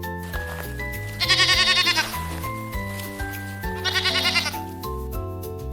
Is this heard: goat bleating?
yes